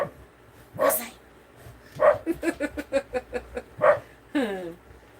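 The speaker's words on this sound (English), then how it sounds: "Don't bark at me." A herding dog on a farm barks several times in a quick run of sharp, loud barks spread over a few seconds, with a voice talking in between.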